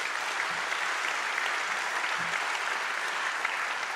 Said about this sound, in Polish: I prosimy o brawa, drodzy Państwo,